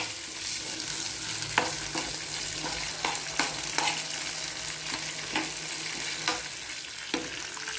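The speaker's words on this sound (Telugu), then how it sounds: "శనగపప్పులు కూడా వేసేద్దాం, ఎందుకంటే పప్పు కూడా కొంచెం ఫ్రై కావాలి." Chana dal frying in a pan: an even, close sizzle runs throughout, punctuated by a series of short scraping stir strokes at a loose, irregular rhythm.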